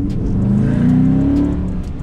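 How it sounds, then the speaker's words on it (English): A car engine revs hard and steadily up close for about two seconds, a loud, sustained roar with a slight rise in pitch partway through, with no talk over it. "I'm going to let y'all get a little engine action."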